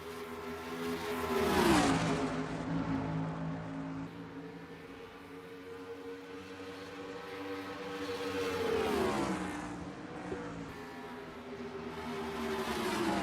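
Stock race cars racing at Charlotte, engines roaring loud and close as they sweep past in a Doppler drop, then a sustained, whining drone that swells again as more cars close in.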